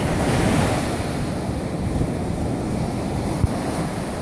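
Waves wash onto a beach in a continuous broad roar mixed with gusting wind buffeting the microphone, fairly loud and steady with no voices.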